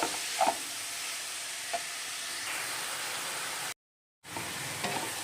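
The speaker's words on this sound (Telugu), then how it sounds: "బాగా కలుపుకోవాలి." Sorrel leaves and prawns being stirred in a frying pan for an Andhra-style curry, a steady soft sizzle with a few light scrapes of the spoon, briefly cut off before resuming.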